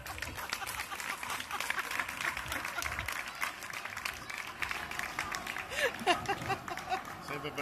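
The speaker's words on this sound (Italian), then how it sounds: "Io voglio un applauso fatto bene." An audience claps at an outdoor shallot festival in Castelvetro Piacentino, 2017. The dense, steady applause runs throughout, with scattered voices and crowd chatter mixed in.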